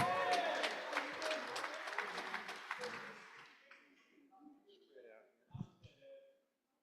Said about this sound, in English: Let's give that a round of applause here.